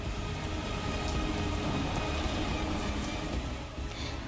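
Heavy monsoon rain pours steadily in a flooded Dwarka street, a dense, continuous roar of water close by with no voices.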